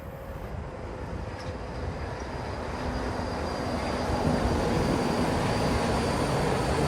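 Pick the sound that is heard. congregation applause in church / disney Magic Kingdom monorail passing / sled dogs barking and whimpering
disney Magic Kingdom monorail passing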